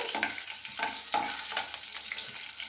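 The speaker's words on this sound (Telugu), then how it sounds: "తాలింపు గింజలు వేసుకొని కరివేపాకు, ఆవాలు, జీలకర్ర, ఉద్దిబాళ్ళు అంతా ఇట్లా వేపుకోవాలి." Soft sizzling of tempering seeds (curry leaves, mustard seeds, cumin, urad dal) frying in hot oil with rhythmic scraping stirs, several evenly spaced strokes over a constant low crackle, no voices.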